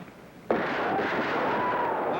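A single gunshot fired at a target in a western movie: a sharp, loud crack that rings on with a long reverberant tail and a faint whining ricochet over a steady background hiss.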